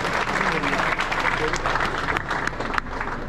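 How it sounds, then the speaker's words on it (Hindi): Sustained clapping from a crowd at a bodybuilding competition in Uttarakhand, India, a steady wash of applause with a few voices calling out underneath. "एक बार जोरदार तालियां।"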